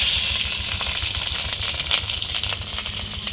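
Green chilies hit hot oil with a steady bright hiss and sizzle while Malabar spinach is cooked, a continuous close crackle with faint scattered pops and a low background hum.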